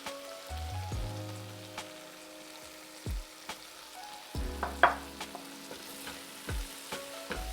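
Spices are stirred into an onion-tomato masala for a mixed bean curry, with a quiet background sizzle under repeated scraping and knocking stir strokes and a few sharper clinks, without speech.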